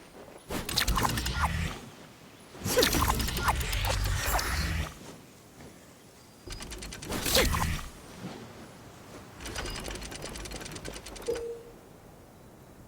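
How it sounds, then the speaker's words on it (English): Clockwork mechanism in the Simulanka Starry Quest video game, heard as several loud bursts of rapid ratcheting, whirring clicks separated by short quieter gaps, with no talk. "Attack clockwork to reset the scene."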